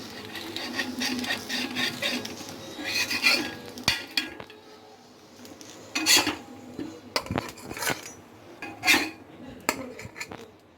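A knife slices diagonally through Bombay toast, Indian-style French toast fried golden on both sides, on a plate, giving several sharp scraping and clinking cuts against the plate between quieter stretches of soft handling, close and alone.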